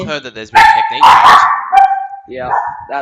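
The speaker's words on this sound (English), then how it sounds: "the dog, Marshall." A dog named Marshall lets out a few quick barks close by, tangled up with a man's ongoing conversation.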